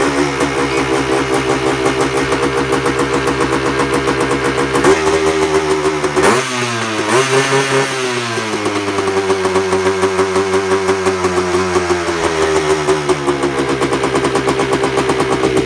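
A Yamaha Tri-Z YTZ 250 two-stroke three-wheeler runs loud and close with a buzzy, rattling idle, dips sharply as the engine stumbles, then catches again and settles back into a steady, raspy two-stroke idle.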